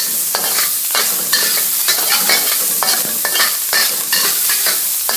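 Cured ham fries and is stirred in a hot pan for fried rice, a loud, continuous sizzle broken by repeated scraping strokes of a utensil, with no voices.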